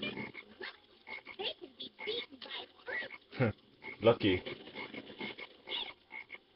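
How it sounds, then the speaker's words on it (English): Black frogs croak in the Sonic Heroes video game jungle level, a faint string of short rasping croaks repeating irregularly under game sounds and someone talking. "Watch out for black frogs."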